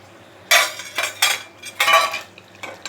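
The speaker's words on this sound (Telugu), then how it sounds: "బాగా అన్ని కొత్తిమీర మొత్తం వేసుకున్నాక బాగా కలుపుకోవాలి." Spicy chicken with coriander being stirred in a pan, giving a few loud scraping, clattering bursts of utensil against metal with short pauses between them, close up.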